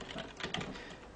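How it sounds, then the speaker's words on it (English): A command is typed on a computer keyboard at a desk while unlocking a Google Nexus One phone. Soft, quick key clicks run steadily through the moment, fairly close but quiet, with no talking. "I just like typing the command"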